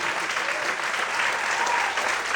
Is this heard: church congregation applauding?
yes